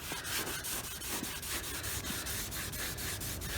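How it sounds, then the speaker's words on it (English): A rag soaked in thinner scrubbed over a rear brake disc of a Land Rover Discovery 4, a close, continuous rough rubbing with a steady back-and-forth rhythm and no talk. "I'm just going to clean it down with the rag that's soaked in thinner"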